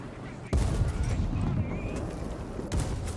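Heavy aircraft gun firing in War Thunder aboard a PBM-3 bomber, sudden loud blasts opening a roaring burst of fire with another sharp hit near the end, with engine drone and a voice talking underneath.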